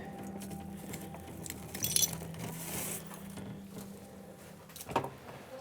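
Broken glass clinking inside a lizard vivarium as the animal is lifted out, with scattered small glassy chinks and a couple of sharper clinking bursts over a low steady hum, fairly faint and close, with no talking.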